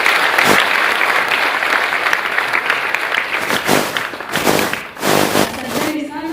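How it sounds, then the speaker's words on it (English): Audience applause at a business community dinner following the national anthem, a loud, dense clapping from a crowd that carries on for several seconds. "Let us give the recognition to our national anthem by giving it a clap that it deserves."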